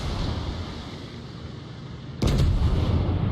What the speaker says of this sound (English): after this next salvo